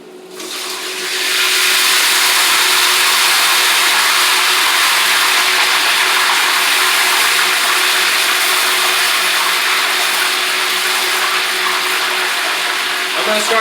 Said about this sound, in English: going to start frying those chicken wings